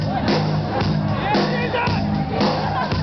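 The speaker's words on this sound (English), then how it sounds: "When I say rock, you're going to scream your heads off one time for Jesus." A large outdoor crowd at a Rock of Ages performance at the NYSE tree lighting screams and cheers in loud, sustained bursts of shouting and whooping, with babble throughout.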